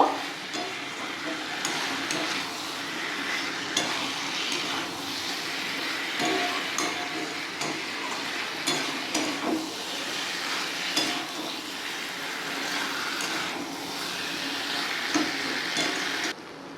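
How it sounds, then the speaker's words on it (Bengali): Potatoes and taro fry in a spice paste, a steady dense sizzle with scraping stirs and occasional clinks of a utensil against the pan, fairly close and continuous with no talking. "এবার মশলার সঙ্গে আলু আর কচুটা ভালো করে ভেজে নেব"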